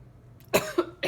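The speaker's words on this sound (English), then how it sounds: "Oh, jeez, I'm coughing." A woman coughs three times in quick succession, close and abrupt, after a quiet breath, each burst harsh and short.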